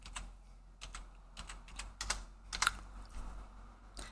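Quiet keys tapped on a computer keyboard in short, irregular bursts with brief pauses and a few sharper clacks, close and alone with no voices.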